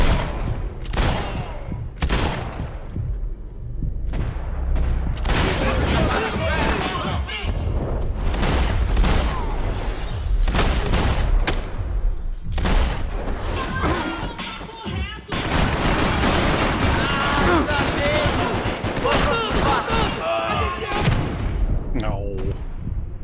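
Continuous heavy gunfire in the video game Max Payne 3, dense overlapping shots and booming impacts almost without pause, loud and close, with a short dip midway before the barrage resumes over occasional voices.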